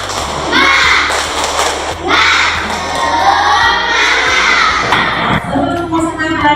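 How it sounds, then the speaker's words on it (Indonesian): A classroom of schoolchildren at an Islamic religious studies lesson loudly chants and claps together in a rhythmic group cheer, shouting voices punctuated by sharp claps and thumps. "Tepuk semangat."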